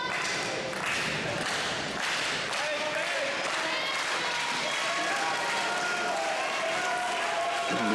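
A wrestling arena crowd cheers and claps for Solo during a match, a dense, steady roar of applause and shouting that fills the whole stretch without letting up.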